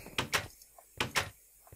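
Placing a door in Minecraft produces two quick pairs of soft wooden knocks, a short gap between them, clear and close with no talk.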